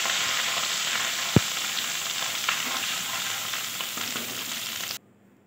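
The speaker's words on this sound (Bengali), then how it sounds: "সামান্য আদাটা একটু ভাজা ভাজা হয়ে গেলেই" Grated ginger fries in hot oil with dry chilli and whole spices, a dense close sizzle with a sharp knock near the start and light stirring, ending abruptly in near silence.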